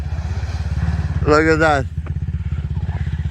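Ford vehicle driving through a mud pit with its engine throbbing steadily nearby, while a person speaks briefly over the noise.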